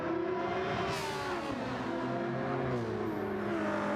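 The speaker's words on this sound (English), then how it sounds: "Just sounds so quiet for a GT3 car" A Ford GT3 race car engine in a racing game drones steadily with shifting pitch, revving up and down through gears at a moderate distance, with no voices.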